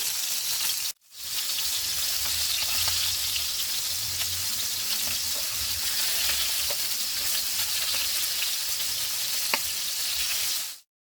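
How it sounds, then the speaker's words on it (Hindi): Stuffed apple gourds (tinda) sizzling in hot oil in a pan over a lowered gas flame, a continuous crackling fry with occasional small pops, briefly cut at the start and ending abruptly. "गैस की फ्लेम को कम करके इनको फ्राई कर लेंगे।"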